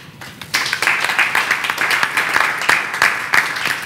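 An audience gathered in Benin to thank the Mercy Ships hospital ship bursts into applause after a short pause, a thick wash of clapping with a few sharper individual claps standing out, sustained and fairly loud.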